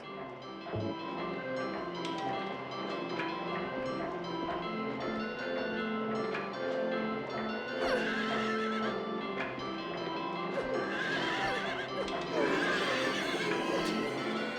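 Horses neigh and whinny repeatedly over clip-clopping hooves and busy game-like background sounds in the video game Silent Hill 3, fairly faint overall.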